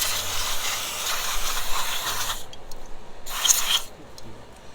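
Aerosol spray hisses in two bursts onto the linkages of a stuck Kenmore sewing machine. The first is longer and steady, and after a short pause comes a second, briefer spurt, both close.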